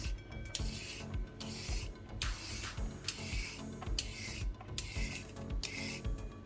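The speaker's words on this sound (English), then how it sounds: "I'm just going to peel my carrots" Carrots are peeled in repeated rasping strokes, each scrape close and distinct, with short pauses between them in a steady rhythm.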